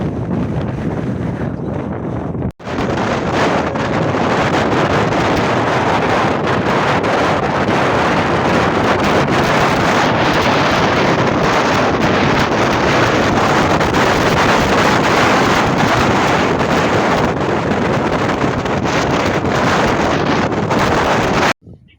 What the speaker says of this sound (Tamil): அந்தளவுக்கு காற்றோட ஃபோர்ஸ் ரொம்ப இருக்குது.